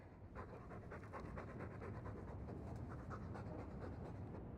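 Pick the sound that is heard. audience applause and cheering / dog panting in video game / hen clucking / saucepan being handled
dog panting in video game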